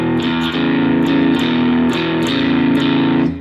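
An electric guitar with a driven, distorted tone plays a chugging blues shuffle rhythm in E. The pattern is loud, steady and repetitive, with a rhythmic pulse and no voices.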